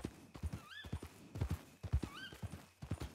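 A horse in a ranch roleplay video game trots with rhythmic hoof clops and gives two high whinnies in succession, fairly quiet, with no talking.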